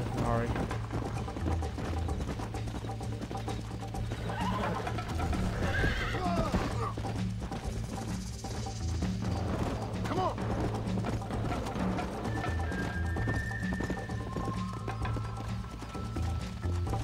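A horse whinnies and its hooves clip-clop in the Red Dead Redemption video game, set against continuous game ambience with mechanical clicking and other background sounds.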